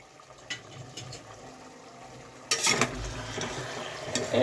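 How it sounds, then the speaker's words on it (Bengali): Mutton being sautéed in a pan at home: a quiet background hiss, then a louder, steady sizzle with scraping and stirring that begins midway and continues to the end, with no voices. "এদিকে দেখো আমার মাংস কষানো হচ্ছে"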